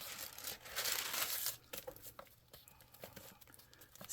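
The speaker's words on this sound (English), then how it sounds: "if you guys can see and hear, this is like tissue paper" Antique tissue paper rustles and crinkles while being handled, a dense burst of crackling up front that thins into lighter scattered rustles, close and quiet, with no speech.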